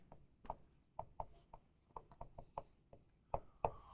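Marker or chalk strokes on a board during a biology lecture, a series of short scratchy taps and squeaks in irregular rhythm, close and fairly faint with no talking.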